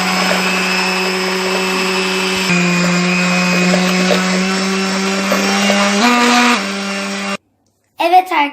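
An electric mixer whirs steadily in a bowl of banana köstebek cake batter with sugar added. The loud, even motor whine holds, shifts pitch slightly, then cuts off abruptly before a brief voice.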